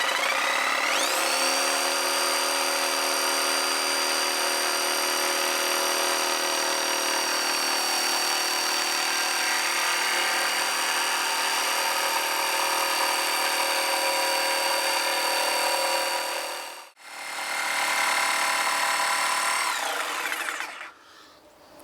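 A new power saw runs loud and steady through its first cut in wood, with a strong whining motor tone that dips briefly near the end before it revs back up and winds down.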